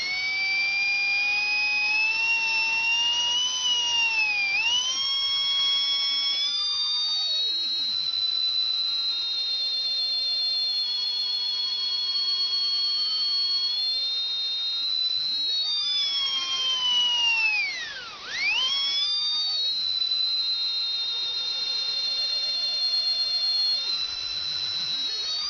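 An RC electric motor driven by a speed controller whines steadily at high pitch, its tone rising and falling with throttle changes and dipping sharply once near the end, loud and continuous with no talking.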